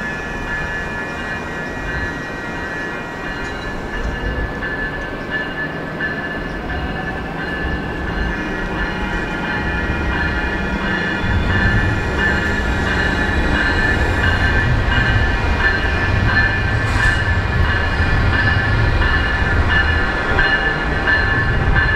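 A Surfliner passenger train departs a San Diego station with a steady rumble that builds over time, plus ringing wheel squeal and metallic tones, with no talk.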